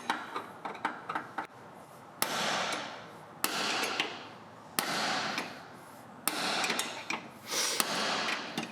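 Hammer blows land on a stuck bolt in the frame of a 2021 Porsche GT4. About five heavy, sharp impacts come at roughly one-and-a-half-second intervals, each followed by a noisy, ringing decay, with lighter taps in between.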